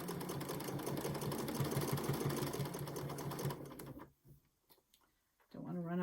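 A sewing machine stitches back and forth over several layers of a fabric face mask, its steady rapid whir running loud and close, then stopping abruptly into near silence before starting up again.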